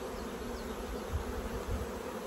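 Honey bees buzz from an opened hive, a dense steady drone close by with soft low thumps, continuous and moderately loud with no voices.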